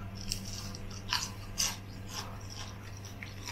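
Close crunching bites and chewing of crisp food, a few sharp crackly bursts over a steady low background hum, no voices.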